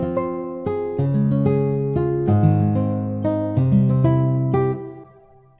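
A nylon-string guitar sample by session guitarist Pick Nylon plays a slow, plucked melodic phrase of overlapping sustained notes, close and clear with no talking, fading out near the end.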